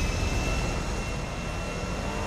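A black plane's jet engine roars in GTA 5 while it races an armoured Nightshark along a straight, a steady, loud, dense drone with no voices over it.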